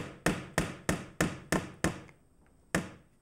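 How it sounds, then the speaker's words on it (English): A finish nail driven into a pine board with a hammer: six sharp, evenly spaced blows in quick succession, a brief pause, then one final strike, close and clear with no talking. "Then I'm going to put a nail in there. Okay, so in the nail goes."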